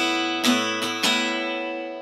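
A strummed acoustic guitar chord from the intro of a song rings out, with three quick strums whose strings then sustain and slowly fade, played alone.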